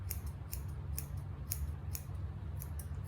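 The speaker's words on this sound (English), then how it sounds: "with the thinning shears, I'm just gonna make everything a little bit closer to the elbow." Thinning shears snip through a Schnauzer's coat on the front leg near the elbow, a close run of quick, crisp metallic cuts in a steady rhythm over a low, constant hum.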